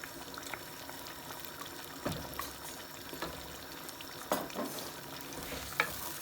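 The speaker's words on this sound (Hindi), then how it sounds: "और अब इसमें हम डालेंगे हमारे पीसे हुए टमाटर।" Ground tomatoes go into frying vindaloo paste mixed with yogurt for restaurant-style chicken vindaloo, giving a soft bubbling sizzle with a few stirring clinks and scrapes, fairly quiet and without talk.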